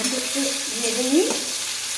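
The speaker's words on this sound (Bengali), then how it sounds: "টমেটো একটু ভেজে নিই," Tomatoes hitting hot oil seasoned with panch phoron, a close, brief burst of hissing sizzle with stirring scrapes and a faint tonal hum mixed in.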